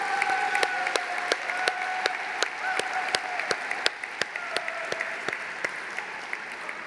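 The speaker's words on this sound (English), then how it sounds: "Can you give them a round of applause," An audience at the Champions of the Earth 2019 environmental awards ceremony gives a sustained round of applause, a dense wash of clapping with sharper individual claps standing out close by.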